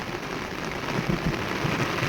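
Steady rain pours over a farm field in Banaskantha with a dense, even hiss, and a faint low rumble of thunder sits underneath.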